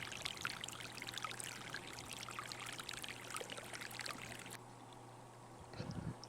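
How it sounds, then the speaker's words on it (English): A small mountain brook at Aguirre Springs trickles over hard volcanic rocks, making a steady, close rushing and gurgling wash that thins out near the end. "the little brook is trickling over the rocks as it works its way down the mountain"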